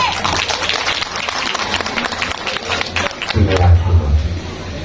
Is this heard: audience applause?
yes